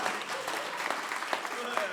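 Applause from a poetry recital audience at a kavi sammelan in Shimla, a brief dense patter of many hands that holds steady throughout.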